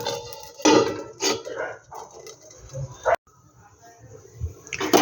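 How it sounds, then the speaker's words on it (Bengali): A lid goes onto a cooking pan with a sharp metallic clank amid kitchen clatter and a voice, followed by a quieter stretch. "আমি ঢাকা দিয়ে দিলাম।"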